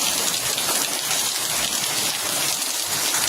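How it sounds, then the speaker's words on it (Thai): Steady heavy rain pours down in a dense, even hiss on surfaces, loud and continuous with no voices. "ฝนตกเห็นไหม ฟ้าร้องแล้วฟ้าร้องแล้ว"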